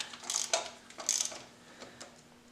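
Wrench backing out an over-tightened bolt on a 2000 Mustang cylinder head, a few close ratcheting clicks in short bursts with small pauses between them.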